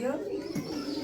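Pigeons at a pigeon market coo in low, rolling murmurs, close and continuous, beneath someone talking throughout.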